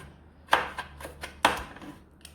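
A knife chops garlic and ginger on a board, giving two firm thuds followed by several lighter, quicker cuts, close and fairly quiet with no voices.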